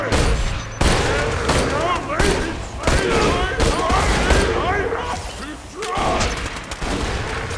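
Splatgun fire in Borderlands 2, a dense stream of rapid booming shots and impacts that runs almost continuously, loud and close, with someone talking over it.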